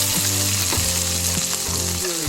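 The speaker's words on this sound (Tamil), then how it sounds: "நெக்ஸ்ட்டு கொஞ்சம் வெங்காயம் போட்டுக்கலாம்" Onion pieces sizzling in hot oil with chana dal and urad dal, a loud steady frying hiss broken by a few stirring knocks, heard up close with no talking.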